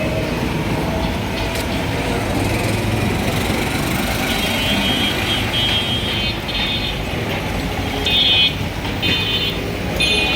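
Traffic on a busy, run-down city road: a continuous low rumble of engines and passing vehicles with occasional higher horn-like tones, steady and fairly loud, with no talking.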